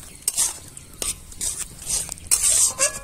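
Semolina being stirred into boiled potatoes in a pan, a spoon scraping and knocking against the metal in uneven bursts over a faint background sizzle.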